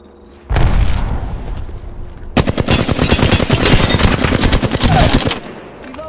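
An Arc Star grenade is thrown and detonates during an Apex Legends match, with a sudden loud burst followed after a pause by a long, dense crackling barrage of rapid sharp pops that fades toward the end.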